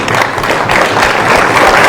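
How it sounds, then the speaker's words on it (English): Loud, dense applause from delegates at the CELAC summit of heads of state and government, honouring St. Vincent and the Grenadines, with steady clapping that fills the room from start to finish. "I ask us to give them a big round of applause"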